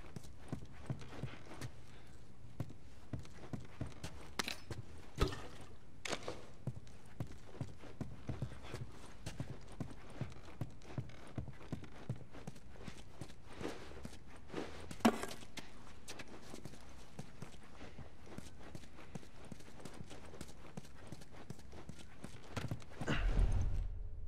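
Horse hooves clip-clop in The Last of Us Remastered, with a steady walking rhythm of faint, close hoofbeats over a low outdoor ambience and no talking.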